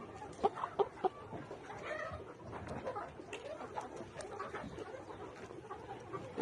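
Kazi company layer pullets cluck softly at a poultry farm, a quiet flock murmuring with a few sharper clucks near the beginning and a low continuous background bustle.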